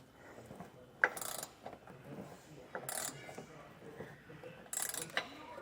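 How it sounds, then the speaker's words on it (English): Socket wrench ratcheting to tighten a SumoSprings helper spring bolt on a 2023 Jeep, three short bursts of clicking ratchet sound separated by quieter pauses, close and faint. "We want to make sure we apply pressure to our socket wrench"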